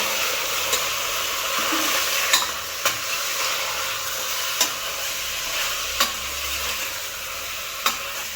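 A spoon stirs chicken sambar in a pan over a continuous sizzling hiss. A few distinct scraping knocks of the utensil against the pan stand out at irregular intervals, close and clear, with no talking.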